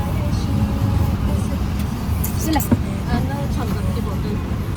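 An auto rickshaw carries passengers home through street traffic, with a constant loud engine drone and road rumble, faint horns and passing vehicles, and voices chattering underneath.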